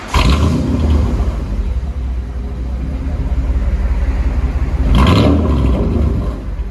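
A Chevy/GMC 1500 pickup's 5.7L V8 revs hard twice, a deep roaring aftermarket exhaust swelling at the start and again near the end, loud and close.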